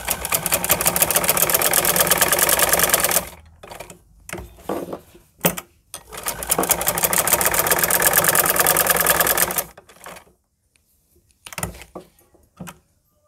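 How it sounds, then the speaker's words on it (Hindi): Electric sewing machine stitching a salwar mohri, a steady fast whirring run for about three seconds, short stop-start bursts, then another long continuous run before brief final stitches, close and alone. "ये देखिए हमें इस तरह से इसके ऊपर ये सिलाई लगानी है। तो चलिए हम अपनी सिलाई को शुरू करते हैं।"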